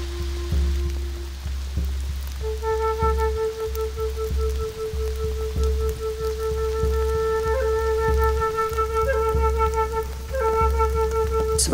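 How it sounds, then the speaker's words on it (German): Heavy rain falls in the Florida Everglades at the start of the rainy season, a steady hiss of drops on surfaces under a low rumble, with sustained tonal chirps or whistles running through most of it. "Jetzt wird der Regen stärker."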